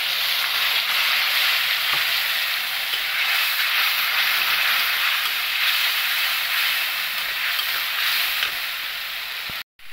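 Mustard paste mixed with turmeric and salt goes into a hot pan over fried taro pieces, setting off a loud, continuous hiss that holds steady for several seconds and then cuts off abruptly.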